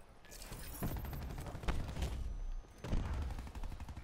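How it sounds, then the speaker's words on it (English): Sentry gun firing in Call of Duty: Black Ops 4 on Nuketown, rapid dense bursts of automatic gunfire with a brief pause, fairly close and with no talk. "Sentry firing. He has a sentry gun"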